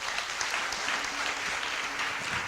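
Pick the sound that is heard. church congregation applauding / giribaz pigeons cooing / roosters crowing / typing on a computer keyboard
church congregation applauding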